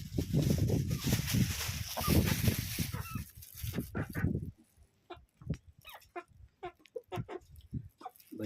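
Chickens peck and feed on leftover food, with a burst of scratching and rustling early on, then a series of sharp, separate pecking taps and soft clucks close to the microphone.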